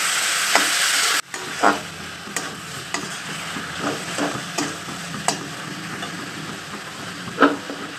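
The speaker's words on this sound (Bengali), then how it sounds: "পেঁয়াজের ভেতর টমেটো কুচি অ্যাড করে দেবো আর ভালো করে আবারও টমেটো আর পেঁয়াজকে ভেজে নেব" Chopped onion and tomato fry in a pan with a continuous hiss, as a spatula scrapes and knocks against the pan in irregular bursts, with one louder burst of sizzle at the start.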